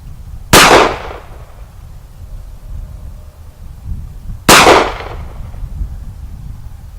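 Two sharp, loud gunshots from a Glock 43 pistol at a 7-yard target, spaced about four seconds apart, each a crisp crack with a brief ringing tail over a low background hum.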